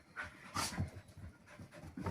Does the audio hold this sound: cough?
no